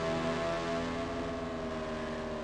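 A race car's engine whines steadily on pit road in the 1996 NASCAR Racing 2 video game at the Monster Mile, a continuous layered drone holding at an even level with no talk over it.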